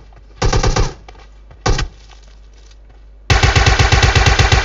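Automatic gunfire in PUBG: two short bursts, then a longer sustained rapid volley of shots, close and loud, with no talk.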